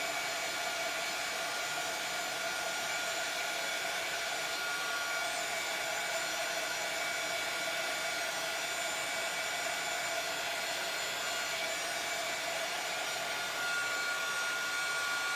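A hair dryer runs steadily for the whole stretch while drying a Highland cow craft, a loud, even, close-up whoosh with no breaks or talking.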